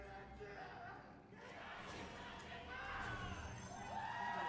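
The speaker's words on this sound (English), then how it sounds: "really nice hearing the crowd be involved" Esports arena crowd at a League of Legends match yelling and cheering, a dense roar of many voices swelling louder toward the end, with commentators talking over it.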